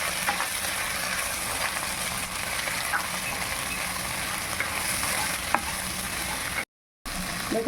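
Chopped tomato and vegetables stirred in a pan for Bengali shukto, a steady close frying sizzle with scraping stirs throughout, cut by a brief gap near the end.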